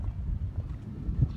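Steady low wind rumbles and buffets against the microphone while fishing, with no voices.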